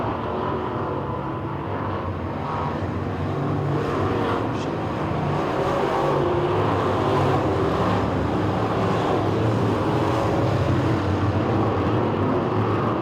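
Late model sportsman race cars roar around the quarter-mile Talladega Short Track in a heat race, a loud, sustained blend of engine drone and crowd rumble, steady and dense for the whole stretch.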